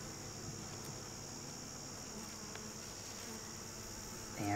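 Honeybees hum faintly and continuously at an opened hive in October, a soft steady buzz with a brief louder bump of handling noise at the very end.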